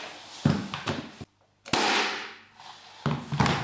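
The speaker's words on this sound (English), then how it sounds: "we're just going to fire in these brads at approximately 300 millimeters" Nail gun firing brads into laminate flooring beading, heard as sharp loud bangs: a couple of close shots, a brief silence, then more pops with a hissing tail.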